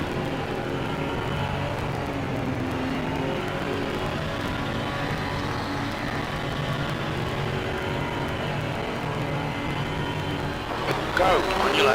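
A steady, droning Porsche 992 GT3 racing car engine from a racing video game runs throughout at a constant pitch, with a brief rising whine near the end. A voice talks softly underneath.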